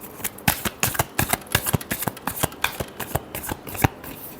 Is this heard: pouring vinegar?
no